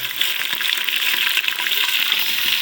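Chunks of beef shank hit hot oil in a pressure cooker and fry, giving a close, steady hiss and crackle that holds without a break for a couple of seconds.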